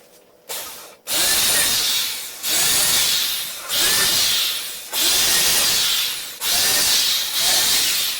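A power drill pre-drilling holes in wood for garage wall shelves, five or six loud whining bursts in a row, each starting sharply and tapering off before the next, close up and alone.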